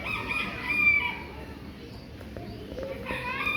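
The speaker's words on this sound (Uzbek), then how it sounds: "Bu yerda xo'rozlar." Roosters at a poultry display that includes Japanese and crested breeds crow nearby: a loud drawn-out crow opens, with quieter clucking and background murmur, and another crow begins near the end.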